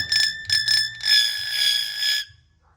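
A bright metallic bell rings in a few quick strikes, then one longer ring that sustains and cuts off, close and clear, mimicked by a talking hill myna bird.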